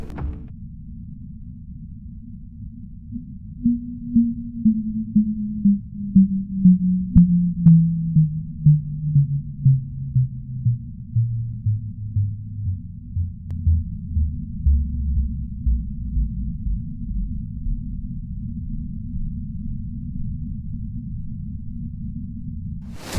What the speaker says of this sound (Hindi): इस आवाज को फास्ट रेडियो बर्स्ट का नाम दिया गया और इसे मुख्तसर अल्फाज में FRB साउंड भी कहा जाता है।